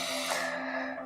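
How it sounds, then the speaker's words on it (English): A slow, deep breath drawn in and let out, one soft airy cycle heard up close and alone, with no talk over it. "Maybe take one deep breath in and out"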